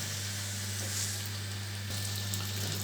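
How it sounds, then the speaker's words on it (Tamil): Puri bread frying and puffing in hot oil, a steady broadband sizzle and hiss that runs continuously with no speech, accompanied by a constant low hum from the kitchen. "எண்ணெயில் போட்டதுமே நல்லா பொங்கி பொங்கி வருது."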